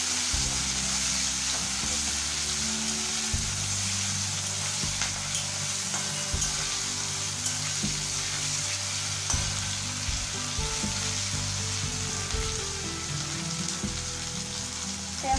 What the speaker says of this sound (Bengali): পেঁয়াজটা একটু ভাজা ভাজা হচ্ছে